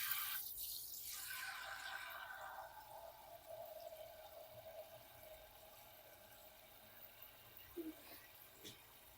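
Water pours from a faucet into an old, worn cooking pot being readied to boil eggs, a brief splashing rush near the start that fades into quiet dripping and faint room noise.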